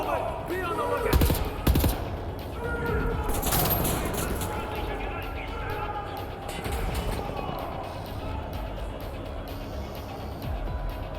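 Automatic turret gunfire in Wolfenstein: The New Order, rattling machine-gun bursts near the start followed by fainter continuing fire and battle noise, with voices talking over it.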